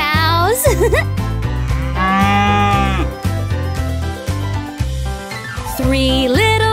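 Cartoon cows moo with rising, bending calls near the start and again near the end, set over loud, bouncy children's nursery rhyme music with a steady beat.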